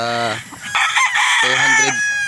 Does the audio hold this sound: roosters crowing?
yes